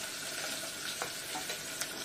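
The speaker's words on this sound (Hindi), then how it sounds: "थोड़े से फ्राई हो जाएंगे आलू" Onions and potatoes frying in a pan, a steady broadband sizzle with a few soft stirring clicks, close and continuous with no talking.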